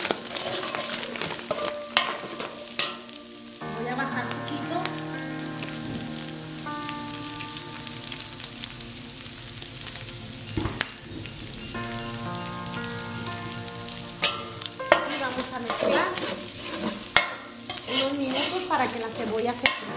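Onion and chile frying on a discada in Chihuahua: a steady, close sizzle runs throughout with scattered stirring scrapes and clinks, and sustained tonal notes layered over it.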